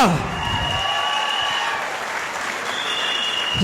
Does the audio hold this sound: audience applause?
yes